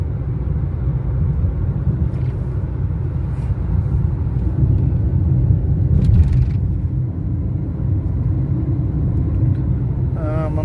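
A car driving on a road in Kuwait with a learner at the wheel: a steady low engine and road rumble from inside the cabin, rising slightly midway, with brief voices briefly audible near the end.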